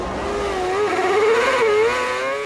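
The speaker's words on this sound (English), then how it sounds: "The sound of 22 cars revving up in the sunshine meant only one thing." High-pitched 2008 Formula 1 race car engines rev and whine at the Australian Grand Prix in Melbourne, pitch rising and falling over a couple of seconds, loud and fairly close.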